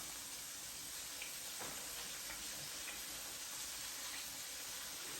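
Steady, low-level sizzling of catfish nuggets frying in hot oil in a Power XL cooker, with faint crackles and pops over a constant hiss.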